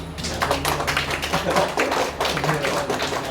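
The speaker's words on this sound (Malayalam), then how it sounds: "നമുക്കെല്ലാവരും വസന്തമാഷെ നമുക്കൊന്ന് കൈയടിച്ച് അഭിനന്ദിക്കാം." Audience at a literary talk applauding, a dense run of hand claps with some speech mixed in, close and steady throughout.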